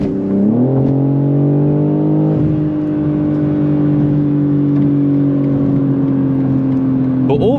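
A loud modified BMW G80 M3 engine and exhaust revs up and holds a steady, droning pitch while cruising on a test drive, heard from inside the car.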